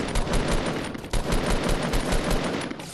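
Rapid video-game gunfire crackles in dense, continuous bursts throughout, loud and close, with a brief gap near the middle and almost no talk over it.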